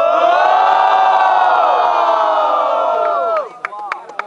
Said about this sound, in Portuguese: Quem gostou da rima do mano Rasta faz barulho!